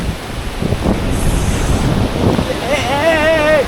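Steady wind and rolling ocean surf at a beach during a New Year trip, a constant broadband rush that lasts the whole time, with people talking over it and a brief whistling tone near the end.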